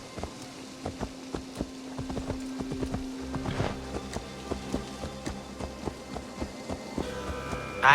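A horse in the video game Assassin's Creed Valhalla moves along in steady, rhythmic clip-clopping hoofbeats, with a low hum and scattered game sounds underneath.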